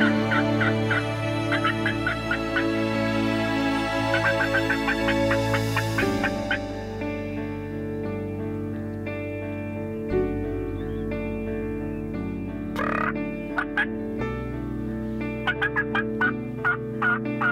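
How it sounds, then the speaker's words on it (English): Wild turkeys gobble during spring hunting season, with bursts of rapid gobbling near and far, several overlapping calls, and sharper clucks and yelps cutting in toward the end. "There's birds gobbling all around us"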